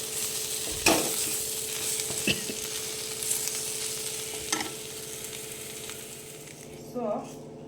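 Ivy gourd (tondekai) palya being stirred in a pan, with scraping and clinking of the spoon at irregular intervals over a steady low sizzle, close by and moderately loud.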